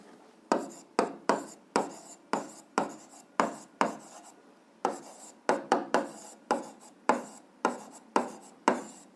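Algebra equations written out by hand, a close run of rhythmic pen or chalk strokes in short bursts, each stroke sharp at the start and fading, with brief pauses between groups.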